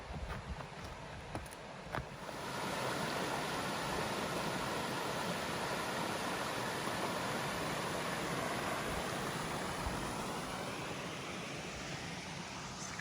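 A creek tumbling down stepped rock cascades above Curtin Falls on the Tabletop Track in Litchfield: a steady broad rush of water, close and unbroken, with a faint knock or two at the start and no talk.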